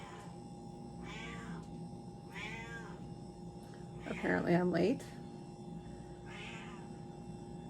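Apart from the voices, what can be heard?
cat meowing for snacks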